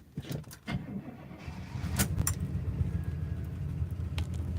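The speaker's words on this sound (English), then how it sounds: "Here's the first start after carb rebuild." A 1971 Oldsmobile Cutlass V8 cranks after a carburetor rebuild, with a few sharp clicks and starter bursts before the engine catches and settles into a loud, rough, uneven idle up close.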